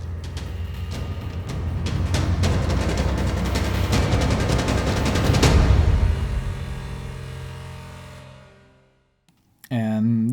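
Looping music from the video game Aspire: Ina's Tale, dense, loud and rumbling as it builds in intensity, then dying away into near silence before a brief new sound cuts in.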